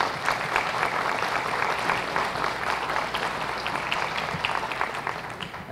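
An audience at a university medical faculty graduation ceremony applauds steadily, a dense, continuous wash of many hands clapping at moderate volume, sustained without pause, welcoming the academic vice-rector.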